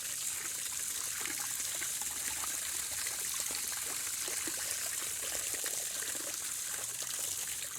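Water running from a hose into a container while prepping sweet potato straw bale beds, a steady close trickling and splashing stream that holds an even level for the whole stretch.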